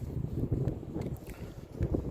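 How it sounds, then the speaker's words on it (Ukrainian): Gusty southerly wind buffeting the microphone in low rumbling bursts, close and uneven, with no talking. "Вітряна погода, так але вітер південний"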